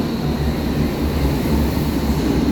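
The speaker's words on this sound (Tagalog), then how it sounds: "Tapos sakay naman tayo ngayon ng tren." A train heading to Landungsbrücken gives off a continuous low rumble and steady hum inside the carriage, loud and unbroken.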